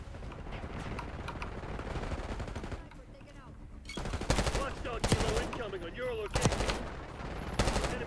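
Gunfire in Call of Duty: Black Ops 6 online play: several short bursts of rapid shots crack out in the second half, following quieter game ambience and a voice.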